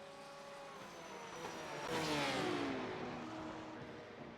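GT3 race cars in a racing video game sweep through the chicanes after the Porsche curves at Le Mans, engines rising to a loud pass around the middle, with shifting pitch as the cars brake and accelerate through the turns.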